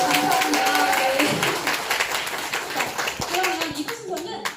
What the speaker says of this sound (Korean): 자 박수가 여기 나와야 돼요.